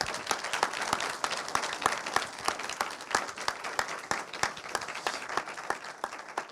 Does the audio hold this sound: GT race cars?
no